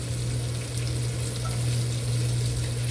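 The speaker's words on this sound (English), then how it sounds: "Letting them sear on one side for a nice little amount of time." Oxtails searing in a hot pan give off a steady, even sizzle with a low constant hum underneath, close and continuous with no talking.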